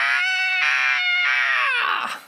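A heavy-metal style scream in imitation of Iron Maiden's The Number of the Beast, sustained and loud, in four pulsing pitched bursts that end in a raspy falloff, with no other talk.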